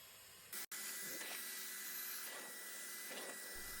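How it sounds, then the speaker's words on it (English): BigBoi Xtractor Mini carpet extractor running on a car's passenger-side carpet with no cleaning products, giving a steady close whine and airflow hiss with rhythmic scrubbing strokes, no speech. "I'd like to see how the BigBoi xtractor performs without any cleaning products in just the passenger side"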